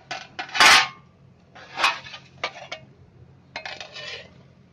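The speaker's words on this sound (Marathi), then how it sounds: "आता मी झाकण काढते" A lid comes off a flat tava pan while an egg roll cooks, with sharp metallic clanks and clinks in a few separate bursts, close and clear.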